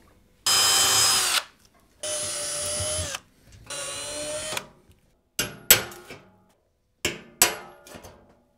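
A power drill bores out rivets on a Fractal North PC case in three loud, sustained bursts, followed by several short, sharp bursts, all close with brief silences between.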